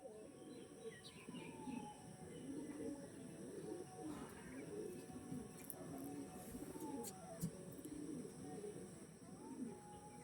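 Pigeons of the Kalpora Kaldam breed coo steadily at a pigeon sale, soft repeated throaty calls continuing throughout alongside occasional chirps, fairly near and moderate in level over a steady background hum.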